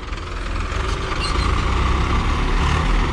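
Engine of a Swaraj 855 FE or Farmtrac 60 tractor revving steadily and loud nearby, a dense continuous low rumble that holds for about three seconds without pause.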